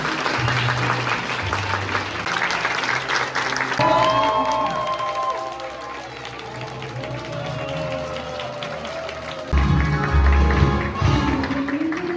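Wedding guests applaud the couple with moderate clapping that runs throughout, while background music with sustained tones plays and shifts partway through.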